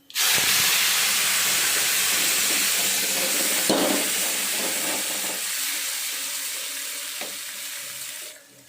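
Loud, steady hiss and sizzle of dal hitting a hot tempering in the pan, starting abruptly and holding strong, with a faint stir partway through before fading slightly near the end.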